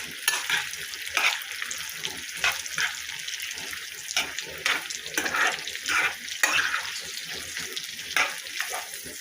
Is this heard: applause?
no